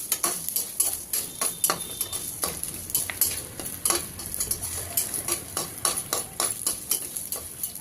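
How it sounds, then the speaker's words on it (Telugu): Ten to fifteen dried red chillies, cut into pieces, fry in a pan while being stirred, producing a steady run of close metallic scrapes and clicks over a faint sizzle, with no voices. "ఒక 10 నుండి 15 వరకు ఎండుమిర్చిని ముక్కలుగా కట్ చేసుకుని వాటిని వేయించుకోవాలి"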